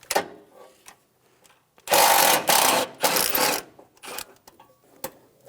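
Ratcheting clicks from a 12mm socket ratchet loosening battery tray bolts on a 2003-2008 Honda Pilot, short bursts of close mechanical clatter between quiet pauses, with one longer loud stretch of rapid cranking in the middle.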